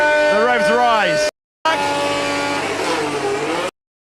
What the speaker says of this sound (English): Now, the 2 McLarens next up. Oscar Piastri. The revs rise.